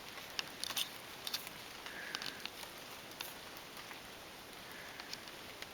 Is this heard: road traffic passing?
no